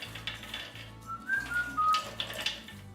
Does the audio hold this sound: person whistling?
yes